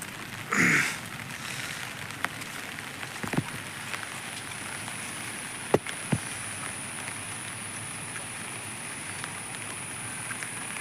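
Heavy rain falls over paddy fields, a steady soft hiss dotted with scattered drop taps and clicks, with a short high chirp near the start.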